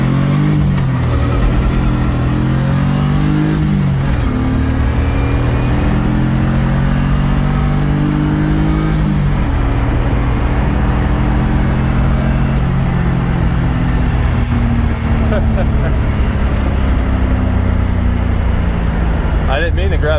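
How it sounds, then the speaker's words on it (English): A BMW E30 race car on 275 square tires accelerates hard, and its engine roars loud and close throughout with rising revs and a gear change. Tire spin comes through under the steady din. "I didn't mean to grab second that hard. It just spun the tires."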